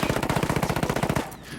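Rapid full-auto assault rifle fire with a shorter barrel in Ghost Recon Wildlands, a loud, evenly spaced burst of about a dozen shots lasting just over a second, then a short ringing tail.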